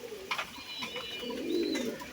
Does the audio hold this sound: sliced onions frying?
no